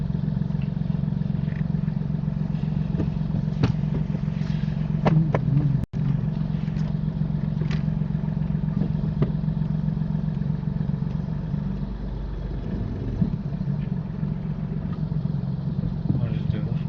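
A car engine runs steadily through a driving lesson, a low continuous hum with some clatter as the car moves off, while an instructor and learner talk over it.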